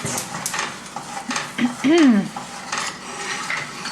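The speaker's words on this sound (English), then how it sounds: "I'm going to mix that together" A spoon stirs a syrup mixture of sugar and water in a pot for Wellesley loaf, giving soft scraping swirls close up, with a brief tonal squeak midway and faint kitchen clatter.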